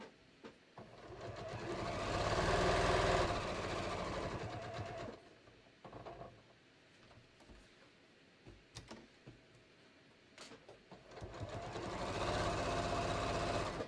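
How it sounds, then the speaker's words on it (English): A sewing machine stitches a waistband onto a pair of shorts in two loud whirring runs, one near the start and one at the end, separated by a quieter stretch of small clicks and handling noises. "so I am just going to finish sewing this on"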